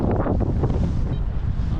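Strong mountain wind buffets the microphone high in the Alps around 3000 m, a continuous rough, gusty roar with no other sounds.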